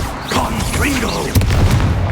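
Confringo spell blast in a video game: a sharp boom hits partway through, followed by rumbling debris, while spoken voices and other spell effects run alongside.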